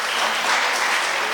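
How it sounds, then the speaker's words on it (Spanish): Church congregation applauding together in a sustained burst of clapping, dense and steady throughout, with no speech over it. "Dele un aplauso al Señor por la vida de ellos."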